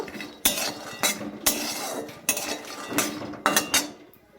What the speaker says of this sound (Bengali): আর বাদামগুলোকে ভালোভাবে ভেজে নেব